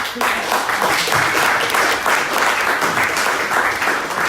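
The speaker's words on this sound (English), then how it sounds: "a round of applause for Skeeve." Steady applause from a conference summit audience, dense and continuous clapping at moderate loudness throughout, with no voices standing out.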